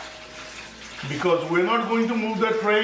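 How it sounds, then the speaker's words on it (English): Hot water poured from a tap into a baking tray for steam-roasting chicken drumsticks, a steady running flow that continues under someone talking through most of the clip. "So this is really important, fill with the hot water."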